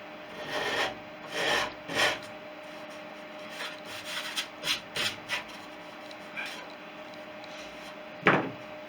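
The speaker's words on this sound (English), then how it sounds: "I'll just sand down the sides because I made it slightly over 1/4 inch." Sanding the sides of a wooden false training edge on a Fisher Youngster V model aileron, with intermittent close rasping strokes in short bursts and a louder final stroke, no speech.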